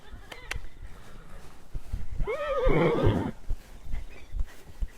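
A horse whinnies loudly in a long harmonic call while galloping around a paddock, with faint thuds and movement noise around it.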